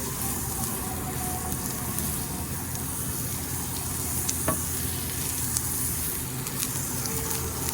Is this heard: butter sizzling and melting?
yes